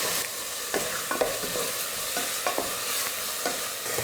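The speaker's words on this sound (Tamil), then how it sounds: "ரொம்ப எல்லாம் கருகிற அளவுக்கு வதக்க தேவையில்லை, சும்மா லைட்டாக வதக்கிக்கிட்டால் போதும்." Garlic, green chili, tomato and curry leaves sautéing in a little oil, with a steady sizzle broken by repeated sharp stirring scrapes against the pan, close and without speech.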